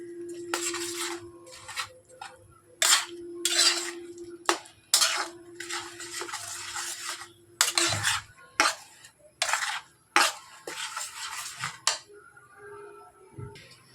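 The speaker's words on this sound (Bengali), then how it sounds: "এবার এটা ভালো করে নেড়ে নিতে হবে" Kheer mixture stirred in a pot, with a spoon scraping and clinking against the metal in repeated rhythmic bursts, close and fairly loud, over a low background hum.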